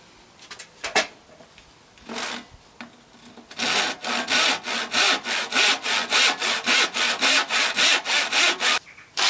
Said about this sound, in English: I've cut out a little section there of the piano hinge